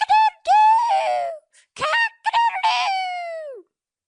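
A single voice imitates a rooster crowing, calling out several loud, close drawn-out crows with short pauses between them.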